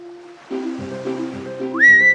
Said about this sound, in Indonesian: Duyung Arya naik ke geladak kapal dan bersiul memanggil sahabat-sahabatnya di laut